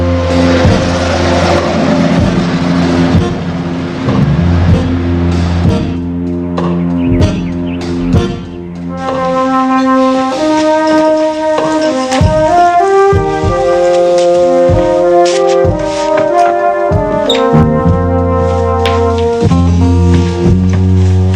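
A car pulling away fast with tires squealing, loud and close, the engine roaring and shifting pitch as the screeching rises and falls over about twenty seconds.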